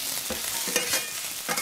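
Food sautéing in hot olive oil, a brief close hissing sizzle with a few soft stirring scrapes across the pan and no voices.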